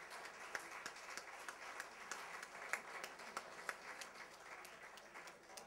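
Audience applause at a Green party mayoral forum in Munich, steady sustained clapping from a crowd, heard at a moderate distance and fairly faint.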